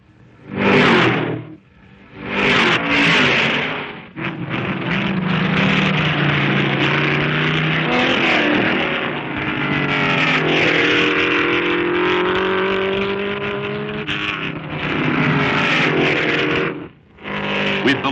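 Vintage Trans Am sedan race cars roar and rev loudly as they speed past in quick succession, the high-pitched whine rising and falling.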